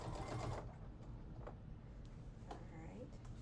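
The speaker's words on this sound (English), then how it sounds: "Now we're at the front, and again we're just going to sew right over that button area." Sewing machine stitching across the button area at the front of a man's shirt being made into a little girl's dress, a steady close mechanical whir running through the clip with faint bumps.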